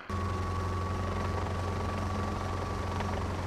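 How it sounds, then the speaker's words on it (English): Helicopter used for cattle and station work in the Australian bush, a steady, continuous rotor and engine drone with a constant hum running unbroken throughout, no voices. "Today, helicopters are used and are in some ways safer."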